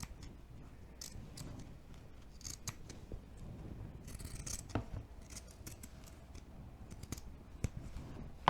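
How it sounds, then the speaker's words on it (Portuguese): Pinking scissors cut along the curves of fabric for a doll jumpsuit, giving a series of crisp, irregular snipping clicks close up over faint background noise, with no talking. "Sempre que é curva, a tesoura de picotar ajuda muito mais, né?"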